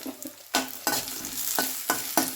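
Raisins and cashews fry in a little oil while being stirred, giving a steady close sizzle broken by about six scraping stirs at roughly even intervals. No voices are heard.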